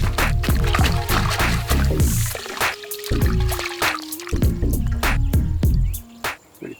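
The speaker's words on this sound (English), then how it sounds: "I will just go and dip that in the water." Bonsai roots are dipped in water during root-over-rock work, giving close, loud splashing and dripping with a rhythmic series of plops and trickles.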